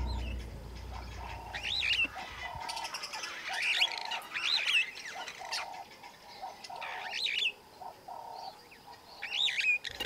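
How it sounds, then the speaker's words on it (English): A superb starling calls in the Serengeti with repeated bright chirps and whistled notes over steady outdoor ambience, with other birds cooing and chattering around it. "Over here is a superb starling, which is a very beautiful bird."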